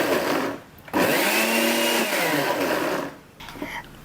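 A food processor blending garlic paste whirs loudly and steadily, its motor pitch sliding and settling, with brief pauses at the start and end.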